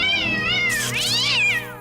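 A cat meows in a dubbed Hindi horror film, a single drawn-out, loud, close wailing meow that rises and bends in pitch, with no talking over it.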